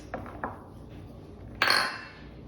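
A utensil taps and scrapes against a dish while green onions are stirred into cauliflower mash: a few light clinks, then one brighter, louder scrape, all fairly faint in a quiet kitchen.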